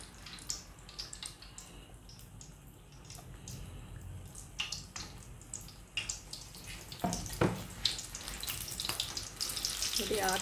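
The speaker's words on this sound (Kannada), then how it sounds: "ಇವಾಗ ಇದನ್ನು ತೆಗೆದ್ಬಿಟ್ಟು ನಾನು ಡೈರೆಕ್ಟಾಗಿ ಎಣ್ಣೆಗೆ ಹಾಕ್ಕೊಳ್ತಾ ಇದ್ದೀನಿ." Batter-coated capsicum bajji frying in hot oil, a steady crackling sizzle with scattered pops and spatters that grow busier and louder toward the end.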